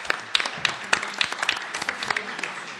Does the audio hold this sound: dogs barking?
no